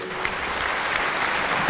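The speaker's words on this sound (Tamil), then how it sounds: "உங்கள் கைத்தட்டலோடு" Audience applause at a Mother's Day debate event in Vellakovil, a steady, dense wash of clapping from a large crowd that holds at an even level throughout.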